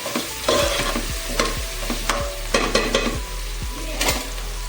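Onion frying in a pan for puffed rice uppittu, a constant loud sizzle broken by regular scraping strokes of a spoon stirring against the pan.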